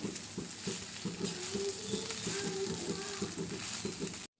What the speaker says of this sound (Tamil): இப்போ நம்ம இதில் போட்டுக்கலாம் இப்போ நம்ம இதை நல்லா கலரிக்கலாம்